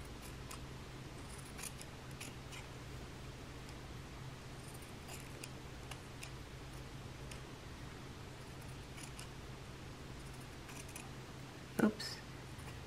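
Scissors trim a small fabric scrap for a tag. One short, faint snip comes near the end, over a low steady background hum.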